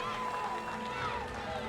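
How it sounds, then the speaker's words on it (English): A crowd roars and cheers for Ukrainian fighters at a medieval armoured combat tournament's 5 vs. 5 finals, a dense, steady wash of noise with a commentator talking over it. "a big cheer from the crowd"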